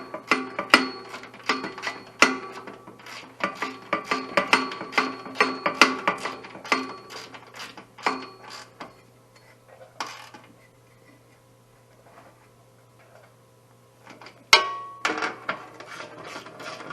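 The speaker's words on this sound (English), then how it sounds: "got 12 ratchet here" A 12 mm ratchet wrench clicks in quick repeated bursts while snugging a fastener on the rear seal of a 2014 Yamaha Viking, pausing between strokes, with a few sharper metallic knocks near the end.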